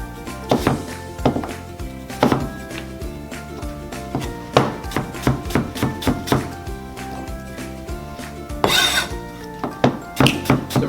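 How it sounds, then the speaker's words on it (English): Knife chopping apples into roughly three-quarter-inch pieces on a cutting board, with repeated sharp thunks in an uneven rhythm, close and fairly loud, alongside faint background music. "So I'm chopping up the apples, not that small, not that large."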